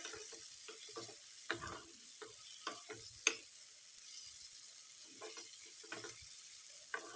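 Peanuts dry-roasting in a pan for chutney, heard as a quiet, close series of irregular scraping stirs and light rattles over a faint sizzle.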